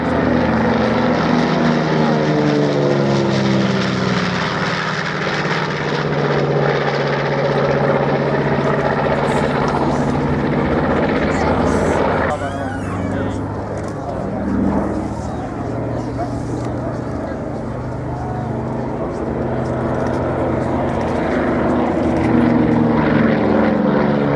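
A B-25 Mitchell propeller bomber drones loudly and steadily over the Shoreham Airshow, its engine roar filling the air for a long stretch and shifting slightly in pitch as it passes, with a voice talking over it.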